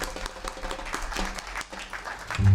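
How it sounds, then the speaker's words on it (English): At a bluegrass concert, a brief burst of audience clapping is heard, fairly close and steady, ending with a low hum from the stage. "Give yourself a round of applause."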